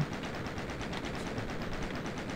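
Rapid game gunfire from the classic Doom shooter, a steady stream of repeated shots with no pauses, fairly loud and dense throughout.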